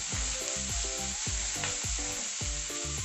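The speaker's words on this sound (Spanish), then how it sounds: "Ponemos la cebolla y vamos cocinando." Onion frying in a pan with a steady close sizzle and hiss, with rhythmic scraping strokes of stirring repeating under it throughout.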